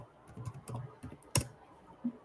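Typing on a computer keyboard, a short run of light, uneven key taps with one sharper, louder keystroke near the end and no talking.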